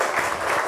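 Brief burst of audience applause at a book talk welcoming a speaker, a dense wash of many hands clapping steadily at moderate loudness.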